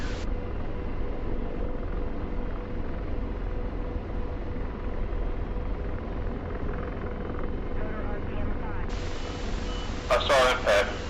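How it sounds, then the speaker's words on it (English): A fighter jet passes overhead in the DCS World flight sim, its steady, dense engine roar holding for the whole stretch, with a few sharp bursts of louder noise near the end. "It's pretty cool hearing the sound of your jet overhead"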